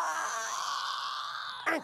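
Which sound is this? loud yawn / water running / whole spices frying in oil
loud yawn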